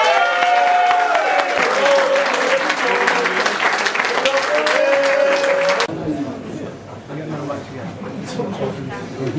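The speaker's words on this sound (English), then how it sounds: "Big round of applause." A crowd applauds at a 2012 presentation night, with loud, dense clapping for about six seconds. The clapping then drops to quieter scattered claps and chatter, and people talk over it.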